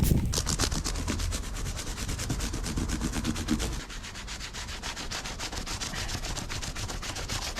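Stiff-bristled scrubbing of degreaser-coated barn find Impala parts, a dense rapid back-and-forth rasp, close and loud, steady throughout with a slight change in texture midway.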